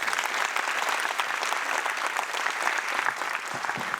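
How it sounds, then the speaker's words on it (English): An audience at a Bank Rakyat conference on the SDGs claps continuously, a dense, even wash of applause from a large crowd throughout. "Can we have one more applause?"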